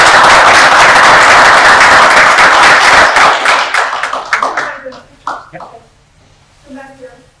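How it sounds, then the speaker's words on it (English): At a city board of aldermen meeting, a room of people claps loudly and steadily before the applause thins into scattered claps and fades, followed by faint talk. "Please give her a round of applause."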